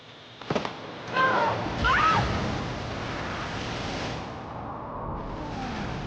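A person is plunged into a large water tank on a film set, a big splash and sloshing water heard up close, followed by the steady churn of a recirculating pump system.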